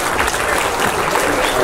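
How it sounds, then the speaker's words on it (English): A church congregation applauds volunteers from a Vacation Bible School week, a steady, dense wash of clapping from many hands that fills the room at even loudness throughout. "Let's give them a round of applause."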